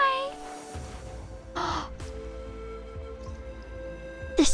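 A bird caws in the Genshin Impact video game, crow-like calls standing out over steady game music, with a player talking nearby.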